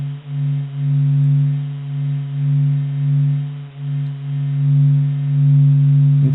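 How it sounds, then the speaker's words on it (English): Recording presented as the sound of the sun: a steady low droning hum with a few tonal bands that swell and fade slowly in a gentle, wavering pulse, heard alone with no voices. "This is the sound of the sun."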